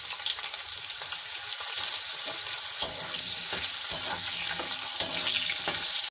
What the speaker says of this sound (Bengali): ফোড়নে দিয়ে এই যে একটু আলুগুলোকে একটু আমি ভেজে নেব